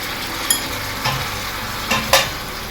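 Tomato pieces tipped into drumsticks frying in oil, giving a continuous hiss with a few sharp clattering bursts as the pieces land and the pan is stirred, close and without speech.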